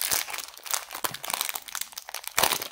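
Crinkly plastic of a Star Wars sticker package being handled up close, a steady run of sharp crackles and rustles with brief louder crunches, quiet and without speech.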